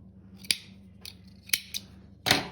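Scissors snip through velvet yarn for a cardigan, giving four or five sharp, close cuts spaced unevenly over a quiet background.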